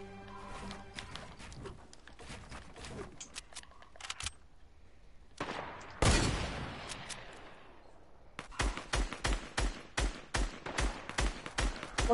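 Gunfire in a shooter video game: bursts of rapid shots come in clusters, with a loud blast near the middle and a steady run of sharp, evenly spaced shots toward the end, no talk over them.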